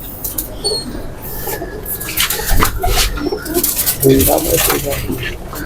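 Golden pigeons of a single bloodline coo in soft, repeated calls amid close, noisy rustling and other bird sounds.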